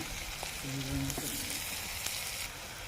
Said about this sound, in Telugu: ఇప్పుడు ఆనియన్ వేసుకోవాలండి, సన్నగా దొరుకుతుంది. ఆనియన్ ఫాస్ట్గా మగ్గాలండి.